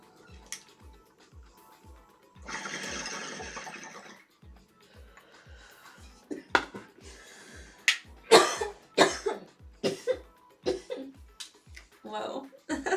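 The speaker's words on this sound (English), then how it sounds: "That one made me cough quite a lot." Several harsh coughs burst out one after another, loud and close, with a steady rhythmic thumping underneath and a rushing noise partway through.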